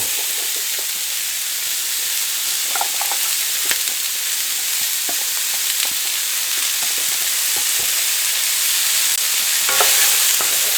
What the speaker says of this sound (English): Just going to stir this around, give them a little bit translucent